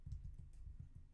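Fingers tap out a command on a computer keyboard, a quick, even run of soft, muffled keystrokes heard close up with no voices.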